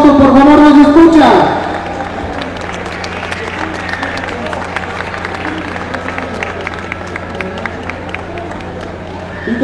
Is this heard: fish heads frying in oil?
no